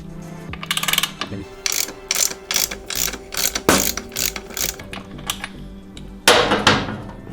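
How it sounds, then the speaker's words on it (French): A ratchet loosens the rear axle nut on a Yamaha Tracer 9 GT motorcycle, sounding as repeated close bursts of fast clicking separated by short pauses, with a few metallic clanks. "on va donc procéder au desserrage de l'axe"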